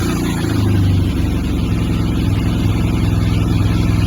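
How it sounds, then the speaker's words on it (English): A motorcycle engine starts and settles into a steady, close, throbbing idle that continues without pause. "let's turn the bike on"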